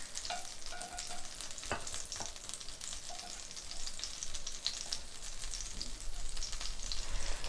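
Ginger sizzles and fries in a pan, a steady crackling hiss with a few sharp clicks and stirring scrapes, moderately close and with no talking.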